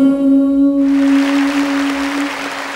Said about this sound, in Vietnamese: những tiếng vỗ tay của quý vị